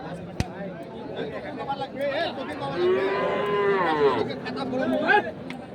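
Cattle at a livestock market selling large sacrificial bulls, one drawn-out moo rising clearly over a crowd's chatter and nearby talking voices.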